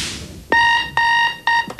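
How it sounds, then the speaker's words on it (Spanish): Alarm clock ringing at seven in the morning, three loud bursts of a bright electronic beep with short pauses between them and a fourth starting at the end. "El despertador a las 7 de la mañana"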